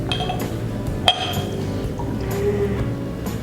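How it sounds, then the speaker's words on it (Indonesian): Water pours into an empty glass jar with a steady liquid gurgle and trickle, a bright clink of glass near the start, heard close and fairly loud without talk. "Nah, Kak Vina punya air putih. Coba Kak Marni tuangkan ke toples yang ada, yang kosong ya"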